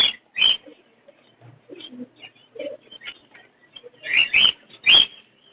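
Pigeons at an open-air Sunday bird market, including tumbler pigeons, give soft low coos and a few sharp flaps of wings, close by and otherwise quiet with no talk.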